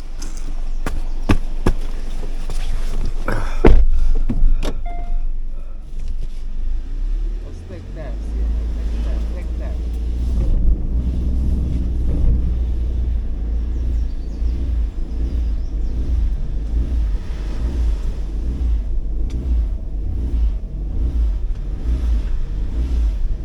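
A car stuck in a muddy hole at a wild campsite, a board under its wheel, revs its engine while reversing. A few sharp knocks come first, then a sustained low rumbling roar, with people talking over it.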